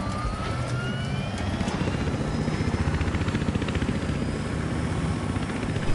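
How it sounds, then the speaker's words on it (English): A helicopter in the video game Battlefield Hardline roars steadily throughout with a loud, continuous rotor thump and engine whine, close and unbroken, with a faint siren-like tone drifting in the background. "I'm just gonna steal this guy's chopper."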